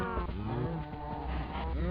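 Cows moo in Minecraft, several long, loud bovine calls overlapping in close succession with no talk.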